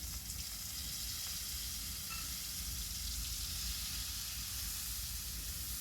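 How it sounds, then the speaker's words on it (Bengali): Soaked spice paste goes into a soybean curry over a low flame, giving a faint continuous hiss and sizzle that stays even throughout with no talking. "তারপরে বাটির মধ্যে যে মশলাটা গুলে রেখেছিলাম সেটা দিয়ে দিচ্ছি।"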